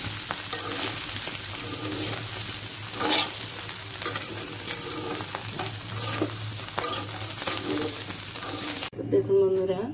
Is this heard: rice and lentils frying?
yes